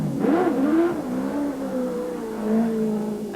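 A Toyota Starlet V8 rally car pulls away from the start line at a 1984 Ashley Forest rallysprint, engine revving and rising in pitch through gear changes, loud and fairly near against outdoor background noise.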